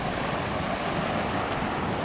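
Water of a wide but clean river in a rural province rushes continuously, a broad steady hiss with wind buffeting the microphone, loud and close, with no voices.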